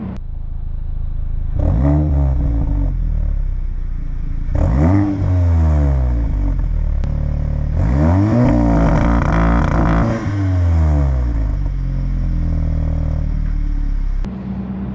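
An Audi S3 exhaust with an aftermarket Vibrant resonator roars through four revving bursts, each rising in pitch then falling away, with a deep rumbling idle in between.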